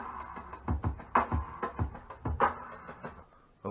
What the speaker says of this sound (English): I finally got a clean, good sounding drum break out of this.